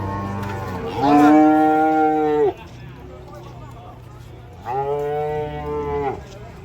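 Two long, loud cow moos a few seconds apart, close by, as cattle are unloaded from a truck, with faint background chatter in between.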